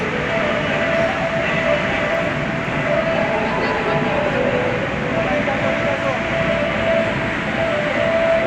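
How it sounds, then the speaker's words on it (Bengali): A metro train at an underground metro station makes a steady, loud rumble with a sustained whine through the whole stretch, while faint station noise sits beneath it. "এই যে দেখো আমি মেট্রো স্টেশনে চলে এসেছি"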